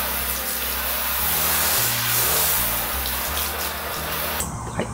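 Hose water rinses a car during a hand wash, a steady close spray hiss running throughout, with low rhythmic tones underneath and the flow cutting off near the end.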